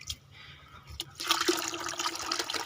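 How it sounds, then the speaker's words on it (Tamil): Water pours into a bucket, filled partway for raising guppy fish at home. It is a quiet, short splash and rush of liquid that starts abruptly partway through. "இன்னும் கொஞ்சம் ஊற்றுமா, அரை பக்கெட் வரட்டும்."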